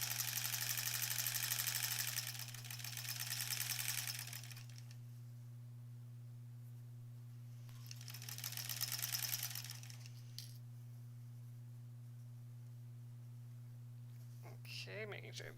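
A sewing machine stitches the back of a granny square quilt in two bursts of rapid, even whirring, with a steady low hum between them. There are a few light clicks near the end.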